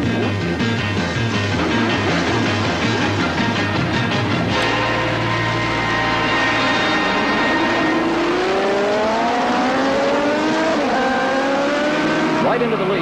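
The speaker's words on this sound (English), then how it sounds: "Right into the lead goes Wes Cooley" Honda racing motorcycles roar off the start of a racetrack, engines revving up and rising in pitch as they pull away, with a commentator talking over the noise throughout.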